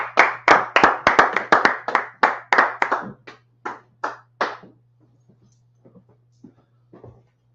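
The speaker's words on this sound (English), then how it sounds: "clap it up" A burst of steady hand claps, about a dozen in quick succession, then a few faint scattered claps trailing off, with a low hum underneath.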